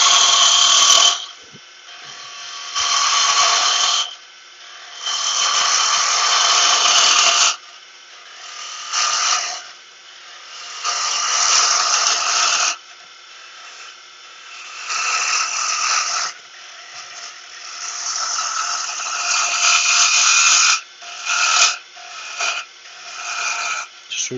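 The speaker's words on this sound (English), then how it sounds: "Just removing lots of timber now." A power tool grinds and rasps timber off a wooden bauble in repeated bursts of varying length, close and fairly loud, with short gaps between passes.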